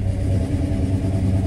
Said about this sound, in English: I revved it up a little bit.